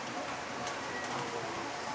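Steady rainfall pattering on surfaces outdoors in a flood-prone neighbourhood, a constant close hiss with a few sharper drips, and faint voices may sit underneath.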